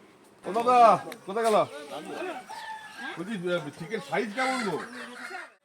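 A rooster crows loudly nearby, near Dharagiri Falls in Ghatsila, then clucking and crowing continue in bursts while people talk close by.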